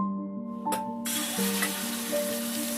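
Spice paste tipped into hot oil sets off a sudden, sustained close sizzle that keeps hissing over soft background music.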